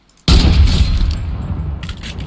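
A single sniper rifle shot in Fortnite: a sudden heavy boom with a sharp onset, followed by a rumbling tail that decays slowly over about two seconds. No voices.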